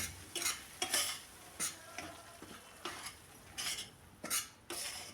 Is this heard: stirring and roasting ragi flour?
yes